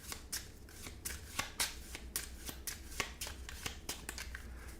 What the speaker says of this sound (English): you're going to shuffle these guys up